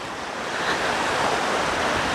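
Heavy rain pours near a bridge as a dense, steady broadband hiss that swells slightly partway through, with no voices.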